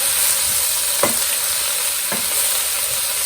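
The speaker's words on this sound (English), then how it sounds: "we'll mix up a little bit more salt in here, and we'll get this mixed" Onions with salt and onion powder frying in a pan for a scallop and steak stir fry, a steady broadband sizzle with two brief scraping stirs standing out near and alone.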